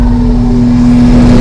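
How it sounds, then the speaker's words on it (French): A Citroën 2CV6 engine idles steadily after starting without any throttle, a loud, close, even mechanical drone that holds the same pitch throughout with no revving. "Et là, ça démarre sans accélérer. On reconnaît tout de suite le son caractéristique."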